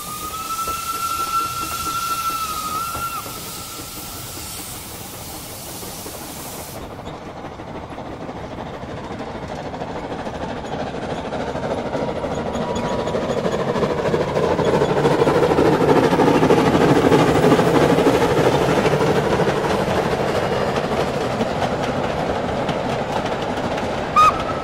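A train sound effect in a German Sherlock Holmes radio drama: a steady rolling rumble of a moving train that slowly swells and fades, with a brief whistle-like tone near the start.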